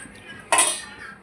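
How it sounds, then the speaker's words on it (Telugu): A cooking pot is set down on a stove with a single sharp metallic clank and a brief ringing clatter, close and moderately loud, while the kitchen is otherwise quiet. "ఇప్పుడు ఒక గిన్నె పెట్టుకొని"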